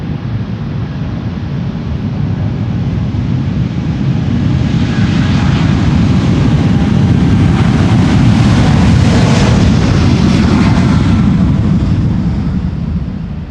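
A brand-new KLM Boeing 787-10 takes off from Schiphol's Polderbaan runway 36L, bound for Los Angeles: a loud, rumbling jet roar that builds and peaks with a hissing rush, then slowly fades, with no voices.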